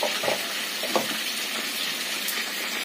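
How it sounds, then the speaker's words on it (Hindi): Shrimp frying in a pan, a steady dense sizzle with a few brief stirring scrapes, close and continuous with no one talking. "ये हमारा फ्राई हो रहा है"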